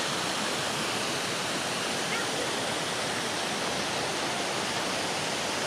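Water pours steadily from many spouts into the public hot spring baths at Guci, Tegal, a dense continuous rush of splashing that fills the space without pause.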